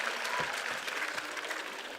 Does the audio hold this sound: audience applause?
yes